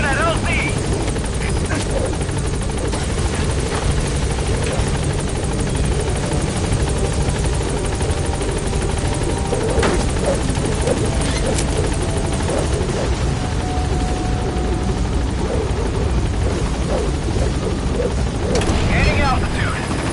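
A helicopter in the video game Metal Gear Solid V thrums steadily as it arrives at a landing zone, its rotor drone continuous and fairly loud beneath radio-style game voices.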